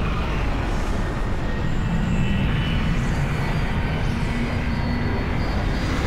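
A spacecraft in the Star Wars Battlefront II Battle of Jakku flies in to land, giving a continuous loud engine roar and rumble that holds steady throughout, with no voices.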